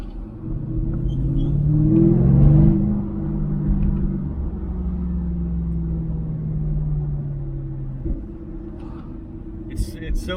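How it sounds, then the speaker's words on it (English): A 2000 Ford Mustang Cobra R with side exhaust, its engine giving a deep, steady rumble that swells as the car revs and then settles to a lower drone, with someone talking over it. "you can hear the exhaust noise by your ear as opposed to behind you"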